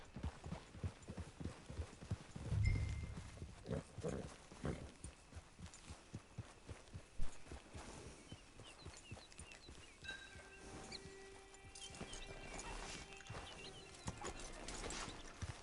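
Horse hooves in Red Dead Redemption 2 clip-clop in a steady walking rhythm on hard ground, fairly quiet, with a brief louder snort or stamp early on and faint game ambience beneath.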